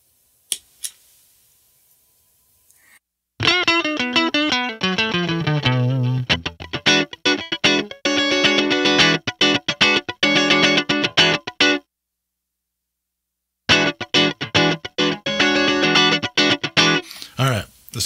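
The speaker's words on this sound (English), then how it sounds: "This is my clean tone. All right, so let's turn the compressor on." Electric guitar in a clean tone through an AZOR compressor pedal, playing loud strummed chords and picked notes in bursts with pauses between phrases.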